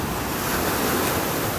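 Small ocean waves wash steadily onto a beach in North Naples, Florida, making a continuous, close surf hiss with no voices.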